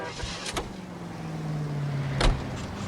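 Car in the video game LA Noire, a steady engine hum with a brief mechanical whir and a couple of clunks like a door or window, moderately close and without speech.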